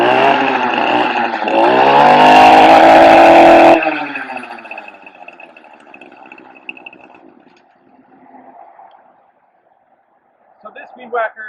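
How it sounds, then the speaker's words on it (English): A two-stroke weed whacker string trimmer engine warms up with a loud, raspy buzz for several seconds, then cuts back and fades to a low idle before some faint clattering near the end. "So this weed whacker is operating very smoothly. The engine sounds consistent."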